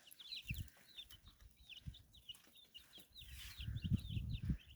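Broiler chicks on a village poultry farm in Zaporizhzhia region make a steady stream of high, repeated peeping chirps close by, with low knocks and shuffling underneath.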